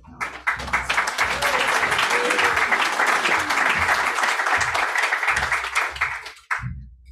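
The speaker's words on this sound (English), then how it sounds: "I always think it's good to have applause before you start." Before a presentation on collaboration in Aotearoa, the audience breaks into loud, sustained applause. The clapping builds quickly and holds for about six seconds before cutting off sharply, and a voice is heard over it.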